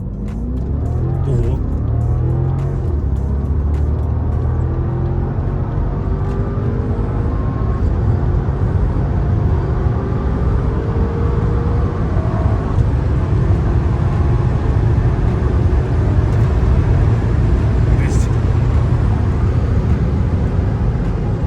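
A stock BMW F10 550i pulls hard through a 0-100 acceleration run, its engine roaring as a loud, low rumbling drone heard from inside the car, steady and close throughout.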